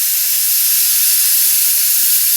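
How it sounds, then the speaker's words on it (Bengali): A pressure cooker boiling shrimp vessel contents vents a loud, continuous, close hiss of escaping steam, steady and unbroken throughout. "এই যে প্রেসারে সিদ্ধ করে নিচ্ছি।"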